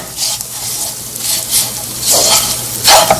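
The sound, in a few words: stirring lemon rice in the pan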